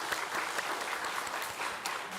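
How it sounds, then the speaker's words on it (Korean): A church congregation claps steadily together, a dense, even wash of applause filling the sanctuary for a couple of seconds with no voices over it. "박수 한번 드리겠습니다"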